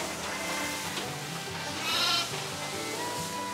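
Sheep bleat on a Dorper sheep farm in Jombang, with one louder bleat standing out briefly over a steady chorus of other animals and background farm noise.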